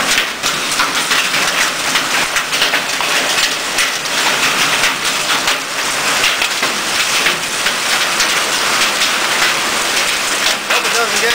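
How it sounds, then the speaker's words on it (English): Marble-sized hail falling outside a barn during a hailstorm, a dense, loud, continuous clatter of pellets striking surfaces without a pause. "It's like marble sized hail."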